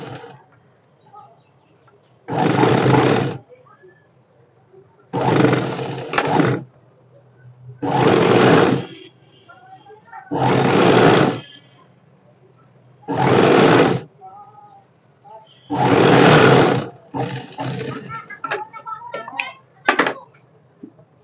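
Domestic sewing machine stitching fabric piping onto sleeves, with seven distinct loud bursts of fast whirring each lasting about a second, separated by quiet pauses and faint handling noises.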